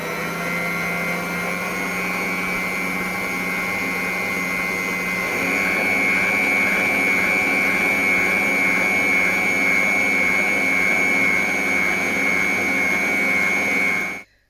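An electric stand mixer whisks meringue at a fairly fast speed 4, giving a steady, loud motor whine with a constant high pitch that steps up slightly midway and then cuts off abruptly at the end.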